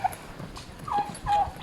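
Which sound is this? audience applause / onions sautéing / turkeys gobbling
turkeys gobbling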